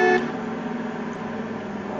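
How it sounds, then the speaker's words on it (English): One short, sharp car horn honk in Mafia 2 gameplay at the very start, followed by a steady low engine drone. "are you honking at me?"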